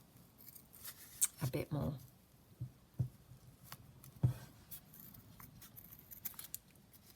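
Scissors cutting around a paper flower on a junk journal altered book cover: a few soft, close snips and paper rustles, the clearest cluster near the start, with quiet talk mixed in.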